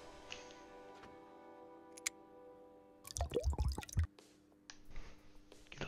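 Oil poured in the Gas Station Simulator video game, heard as sparse soft drips and ticks that swell into a short burst of wet squishy pouring, then fade over a faint steady hum.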